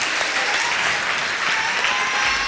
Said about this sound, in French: Je voudrais que tu t'applaudis bien fort